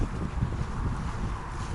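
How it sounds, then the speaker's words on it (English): Steady wind buffets the microphone with a low, rumbling roar that continues throughout, with no voices. "It's kind of windy out here"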